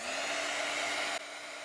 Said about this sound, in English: it's going to get loud for a second as I heat set these.